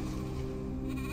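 A sheep gives one sustained, wavering bleat, close and fairly loud, with no other sounds over it.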